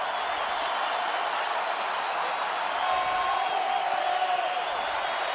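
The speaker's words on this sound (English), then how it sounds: "Crowd is juiced early." A stadium crowd at an NFL game between the Denver Broncos and Houston Texans roars in a steady, dense wash of cheering and applause that swells slightly midway.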